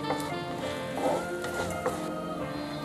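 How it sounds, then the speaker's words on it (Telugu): Cashews and peanuts sizzle steadily in hot oil in a pan, a close, continuous crackle with a few brief stirring scrapes and no talk. "ఇప్పుడు దీంట్లోకి జీడిపప్పు వేసి ఒక 10 సెకండ్స్ వేయిద్దాం"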